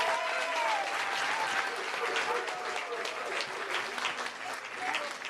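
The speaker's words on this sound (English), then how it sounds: "Let's give her a nice round of applause." Guests at a wedding bridal party introduction at a country club clap warmly for the bride's grandmother, a continuous crowd applause with a voice speaking over it through much of the stretch.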